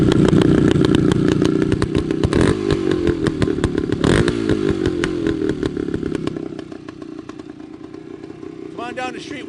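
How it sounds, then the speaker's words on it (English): A 1972 Yamaha RT2 360 two-stroke motorcycle revs nearby with a sharp, crackling, ringing exhaust note in repeated bursts, fading toward idle, with a voice speaking over it. "Listen to the exhaust note on this thing."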